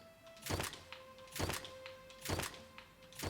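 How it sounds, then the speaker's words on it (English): Weapons are dropped in the video game The Outer Worlds, giving four soft, evenly spaced thuds about a second apart, each a short broad clatter over a quiet faint tone. "So I'm actually just going to drop these weapons."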